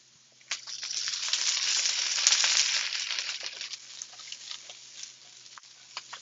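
Butter and mushrooms sizzling in a pan, a steady crackling fry that swells then settles, with scattered sharp pops and ticks and no talking.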